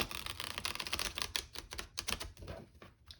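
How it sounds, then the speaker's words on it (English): Tarot cards riffle-shuffled in quick rapid bursts, a dense flutter of crisp paper snaps, close up with no talking. "So I will show you how the cards shuffle."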